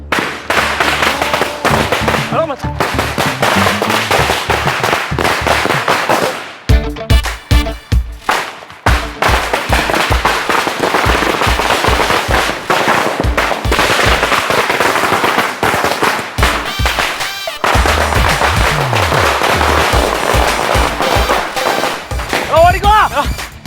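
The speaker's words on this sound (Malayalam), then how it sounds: "രണ്ട് പടക്കം പൊട്ടിച്ചപ്പോഴത്തേക്ക് ഓടിക്കളഞ്ഞു" Loud, rapid bursts of firecrackers crackling in long, dense volleys with brief pauses between them, and voices faintly audible in the background.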